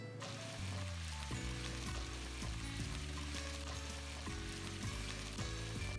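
Black cumin, star anise and a cinnamon stick fry in oil for a white chicken korma pulao. The soft, continuous sizzle runs beneath steady melodic background music.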